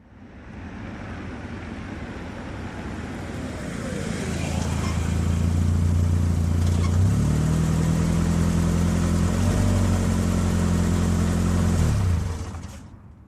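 An engine approaches and idles nearby, a low steady rumble rising in level, then cutting off near the end; faint voices underneath.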